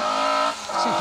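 A Mark II rally car on an asphalt stage passes by loud and close, engine roaring then dropping in pitch as it goes by, with a brief tire squeal.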